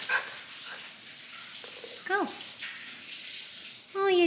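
Young puppy newly brought home, giving a few short yips and barks amid a person talking to it, with a sharper bark burst near the end.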